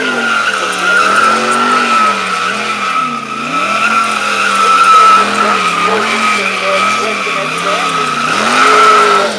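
Yamaha R1 sport motorcycle doing a rolling stoppie into a burnout at a bike show, its rear tire squealing and skidding continuously with a wavering, rising and falling screech over the engine's drone, loud and sustained throughout.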